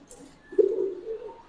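Pigeons at a pigeon farm give a soft, low cooing murmur that swells midway and runs on steadily, fairly close, with a faint higher chirp early on.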